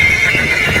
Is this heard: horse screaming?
yes